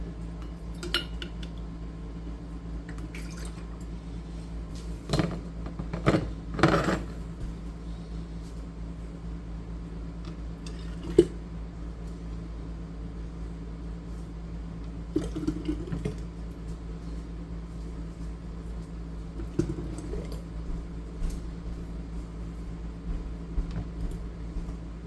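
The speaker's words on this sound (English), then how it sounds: "Fill our jars, wipe our rims, put our lids on, and we're gonna get them in the canner." Glass quart canning jars being filled and lidded in a home kitchen, with scattered clinks and clatters of glass and metal lids, a few louder knocks, over a steady low hum.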